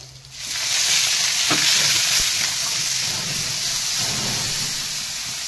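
Tomato, onion and ginger pastes sizzle loudly in hot oil while being stirred for a cabbage dish, a steady frying hiss with occasional scraping of the spoon, with no one speaking.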